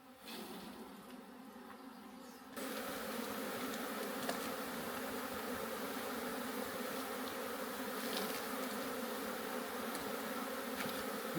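Steady, dense buzzing of many honeybees inside a hive box, continuous and close, growing fuller after a couple of seconds and holding at an even level with no talking.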